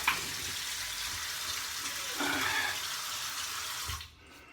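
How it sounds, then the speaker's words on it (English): Running tap water splashes steadily as a face is wetted before a shave, a close, continuous broadband rush that cuts off abruptly near the end. "Maybe I could just wet my face a little bit."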